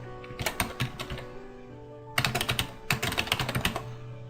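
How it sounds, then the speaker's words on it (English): Rapid clicking keystrokes on a computer keyboard come in two quick bursts separated by a short pause, close and fairly quiet, with no talking. "Now I'm going to type in some text."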